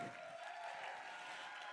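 Faint, distant applause from the audience at a charity gala auction for an ALS foundation makes a soft, steady wash of clapping with no break.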